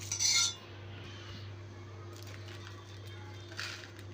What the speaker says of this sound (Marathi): आता हे आपण हलवून घेऊया, छानपैकी मिक्स करून घेऊया